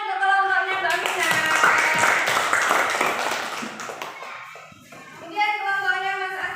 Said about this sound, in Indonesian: tepuk tangan untuk kelompoknya Mbak Vina.